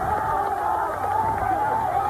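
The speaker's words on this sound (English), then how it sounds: "All the cheers for Sid Barris, the pats on the back are coming." Roaring crowd of thousands cheering a cyclist at a British bicycle race, a dense continuous wall of voices and shouting with no pauses.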